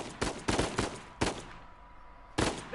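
Gunfire in Uncharted 4, a quick series of sharp shots in uneven bursts, fairly close and moderately loud, with a brief lull before a final shot.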